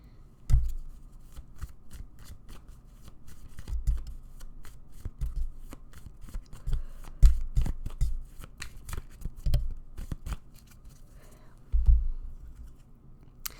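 Tarot cards are shuffled by hand up close, a series of soft riffling bursts and flicks at irregular intervals, with sharper slaps now and then, in a quiet room.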